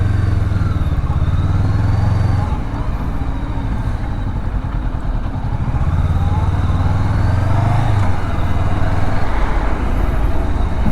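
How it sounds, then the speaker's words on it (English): Steady street traffic of electric bikes and cars passes close by, a continuous loud roadway rumble with low engine drones swelling and fading as vehicles go past. "Many electric bikes, many cars"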